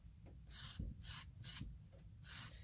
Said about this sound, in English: It's not completely flat, so I'm going to use my serrated rib to help me smooth it out.